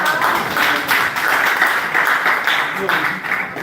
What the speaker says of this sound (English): This clap for him.